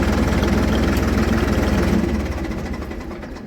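A Ford tractor engine idles loudly with a steady, chugging knock, then slowly winds down and fades as it shuts off.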